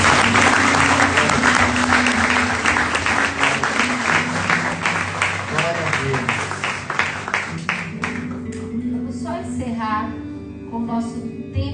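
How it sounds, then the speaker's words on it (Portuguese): A church congregation applauds during worship: loud, dense clapping fills the room, then thins into scattered claps as a voice begins speaking over the tail end. "quem quer estar mais perto de Deus, aplauda o Senhor como forma de adoração."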